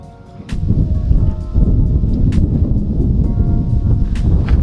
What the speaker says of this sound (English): Man, that wind's really picking up